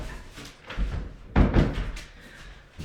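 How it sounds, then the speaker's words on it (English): A bedroom door is pushed shut, giving a couple of dull thuds and a firm closing knock within a few seconds, close and fairly loud in a quiet room. "let me close my door."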